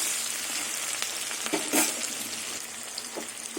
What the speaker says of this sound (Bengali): পেঁয়াজ হাফ ভাজা হয়ে গেছে